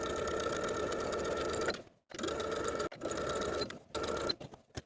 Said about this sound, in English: I'm going to edge stitch close to the opposite folded edge of my binding all the way around the armhole